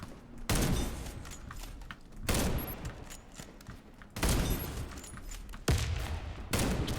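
Grenade explosions and gunfire from the video game Warface come in repeated loud bursts, with several dense volleys of shots and blasts following one another every couple of seconds.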